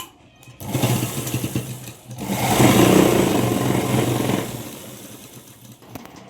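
A sewing machine stitches a folded pant waistband in two whirring bursts, a short run and then a longer, louder one that tapers off, close by with no talk.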